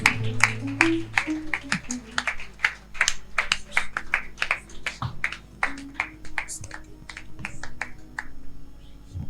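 A church congregation claps steadily in rhythm to worship the Holy Spirit, sharp regular handclaps over sustained keyboard music.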